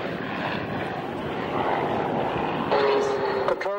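A propeller aircraft passing overhead at the Duxford Autumn Airshow in 1994, its loud engine drone building as it nears, with a commentator talking over it on the public address.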